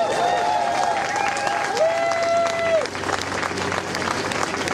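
Applause from an audience at the Moabit Hilft rally in Berlin-Moabit, a steady broadband clapping wash with some crowd noise mixed in, while a sustained whistling tone runs over the first three seconds.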